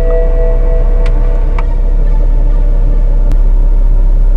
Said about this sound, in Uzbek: O'rtoqlar, BMW X6 ni birinchi marta haydayman.